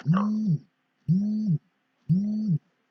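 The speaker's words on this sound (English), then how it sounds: "That's my alarm going off." A phone alarm goes off in three identical repeated tones about a second apart, loud, close and steady, with nothing else heard between them.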